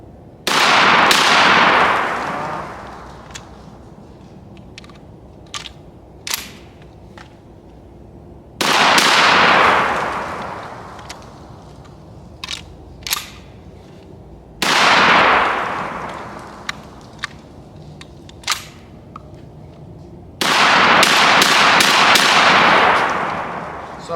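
A Mossberg 940 JM Pro shotgun being tested for a failure fires four loud, sharp blasts spaced several seconds apart, each with a long decaying tail, and faint clinks and handling noises between shots.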